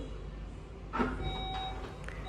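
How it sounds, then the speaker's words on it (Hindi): A 2026 Skoda Kodiaq's boot gives short electronic beeps before opening with the key, faint thin tones over steady outdoor background noise, with a brief mechanical clunk partway through. "एक बार बीप करेगी, 2 बार बीप करेगी, और उसके बाद फिर ओपन हो जाएगी।"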